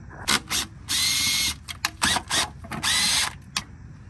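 Power tool, likely an impact or drill, working on a bracket on a BMW N55 engine in a 535i F10: several short bursts and longer whirring runs, close and loud, with brief pauses between.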